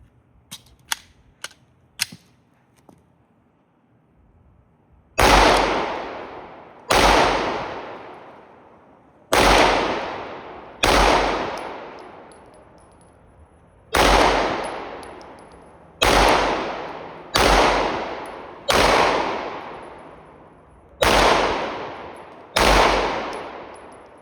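Glock 19 Gen 6 pistol fired outdoors in ten loud, sharp shots with ringing decay, spaced irregularly about one to two seconds apart, after a few faint clicks at the start.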